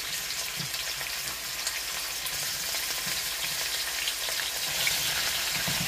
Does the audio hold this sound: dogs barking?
no